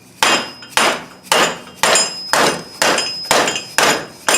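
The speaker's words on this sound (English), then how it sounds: "you want to take and hit it with a soft hammer" A soft hammer strikes the front wheel hub of a 2002–2009 Trailblazer or Envoy during wheel bearing replacement, eight loud, evenly spaced blows with short ringing decays, close up with no talking.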